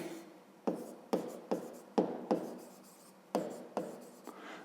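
A pen writes the first step of a math solution on paper, producing about eight sharp scratchy strokes at irregular intervals, each fading quickly, close and quiet with no talking.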